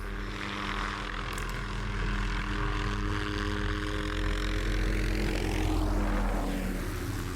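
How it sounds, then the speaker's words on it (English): Loud rotor and engine drone of an approaching helicopter, a steady whirring roar that swells slightly and shifts in pitch as it draws near. "Is this your helicopter coming?"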